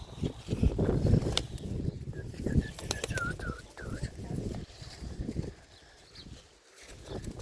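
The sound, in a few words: pigeons cooing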